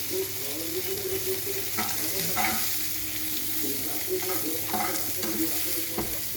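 Ridge gourd frying in a little oil in a pan with salt over raised gas heat, a steady close sizzle broken by occasional stirring scrapes, with no talking.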